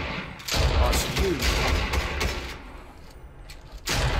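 Gunfire in the Fortnite battle royale video game: a quick burst of shots, then scattered thuds and bangs. The fire is moderately loud, with a fainter stretch before the shooting picks up again at the end.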